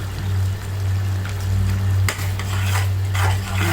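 Spoon stirring carrot sago kheer with cardamom in a pot, steady scraping and sloshing with occasional clinks against the metal, close and fairly loud over a constant low hum.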